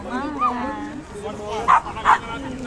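A dog gives two short, sharp yipping barks close by near the end, while a person talks over it outdoors at a holiday spot in Llafranc, Girona.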